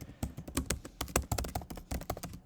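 Fingers type on a computer keyboard, a close, busy run of quick uneven key taps with brief pauses, no voices.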